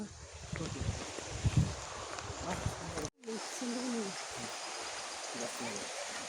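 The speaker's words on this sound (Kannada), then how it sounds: "ನೀರು ಹರಿತಾ ಇದ್ದಿದ್ದು ಸೌಂಡು" Continuous wash of running stream water at Kemmannugundi, broken by a momentary gap, with faint indistinct voices beneath.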